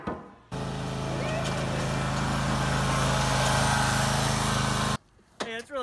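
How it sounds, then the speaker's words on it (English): A mower cuts grass on a farm, its engine running loud and steady for several seconds before cutting off abruptly, with brief voices afterward. "It's really mowing it down."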